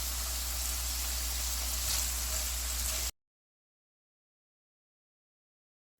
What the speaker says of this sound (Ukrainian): На суміші рослинної олії та вершкового масла роблю засмажку. Додаю нарізаний часник.